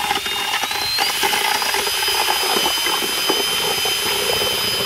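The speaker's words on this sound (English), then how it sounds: "we've got a cement mixing bit that we just added to a regular drill" A regular drill fitted with a cement mixing bit whirs loudly and continuously as it churns salt in a bucket, a steady close mechanical drone with gritty rattling throughout.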